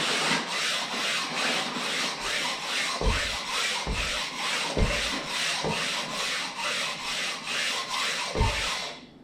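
A speed skate blade is polished with a sharpening stone in about a dozen regular back-and-forth strokes, a close, raspy rubbing scrape repeating at a steady rhythm, alone without talk.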